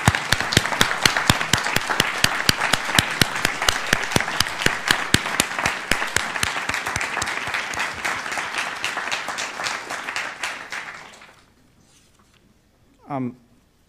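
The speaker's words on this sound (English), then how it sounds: "can we just give my family a round of applause for that?" An indoor audience at a book talk breaks into sustained, dense applause with many hands clapping at once. It fades out after about eleven seconds, and a voice follows briefly.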